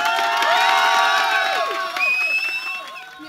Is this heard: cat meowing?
no